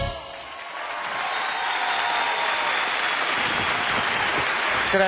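An audience at a live show applauds, a dense, steady wash of clapping that swells slightly after the opening and keeps going without a break.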